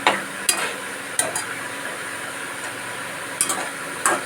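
Masala spices being fried and stirred in a pan for a fish oil kalia, with a steady sizzle and several sharp scrapes and clinks of the spoon at irregular intervals.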